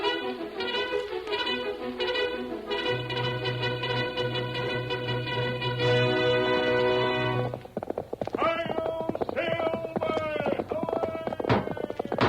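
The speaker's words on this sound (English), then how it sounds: "A fiery horse with the speed of light, a cloud of dust, and a hearty hi-yo Silver, the Lone Ranger." Galloping horse hooves from an old Lone Ranger radio drama, a steady clip-clop rhythm under a swelling orchestral theme and a narrator's voice, with a neigh or whinny rising in the mix.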